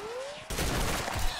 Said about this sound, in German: Das ist, glaube ich, ein Sniper, oder?